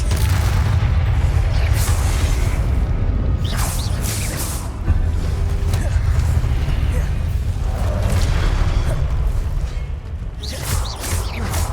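Repeated booming blasts from a Confringo blasting spell in a wizard action game, heavy low rumbles with whooshing bursts layered over a continuous roar, loud and close with several impacts spread across the stretch.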